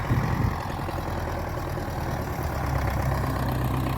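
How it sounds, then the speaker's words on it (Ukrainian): A tractor engine idles with a low, steady rumble, continuous and moderately loud, with a faint rhythmic throb and no voices. "Зараз трактор."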